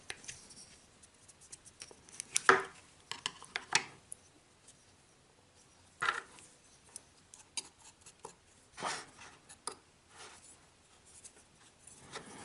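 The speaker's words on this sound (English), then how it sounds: "stick your scissors in that little channel," Small scissors snipping cotton wick for a single-coil 22mm RTA vape atomizer: a few faint, close, crisp snips spread out in a quiet room, no talking.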